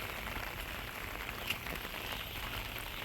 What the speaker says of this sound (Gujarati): વરસાદ જબરજસ્ત પડે છે